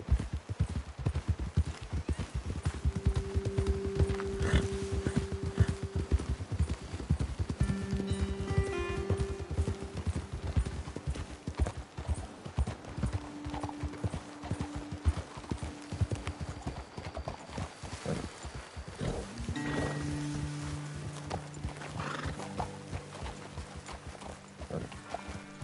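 Horses clip-clop at a steady walking pace through a Red Dead Redemption 2 game scene, hooves close and continuous, with occasional snorts and whinnies over outdoor ambience.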